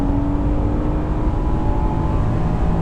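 A 2018 Mercedes-Benz C63S AMG sedan launches at full throttle, its engine roaring loud and steady from inside the cabin with a rising drone and no break for nearly three seconds.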